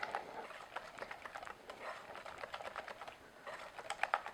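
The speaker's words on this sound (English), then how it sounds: "I'm just going to use a wire whisk. I'm just going to beat this frosting a little to" A wire whisk beats soft chocolate cake frosting in a bowl, giving a quiet, rapid ticking and scraping that runs steadily throughout with no talking.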